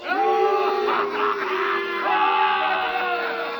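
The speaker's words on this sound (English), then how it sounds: "The crowd encouraged to jeer at the man of truth." A courtroom crowd in a 1939 radio drama about the trial of Emile Zola jeers and shouts in a dense, sustained mass of overlapping voices, loud and close throughout.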